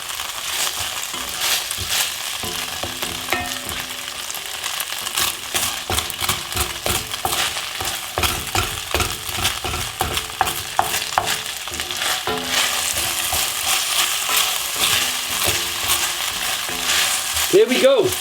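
Sharwood's Szechuan noodles stir-frying in a hot pan, a steady loud sizzle with constant scraping and tossing, dense and continuous throughout with no talking.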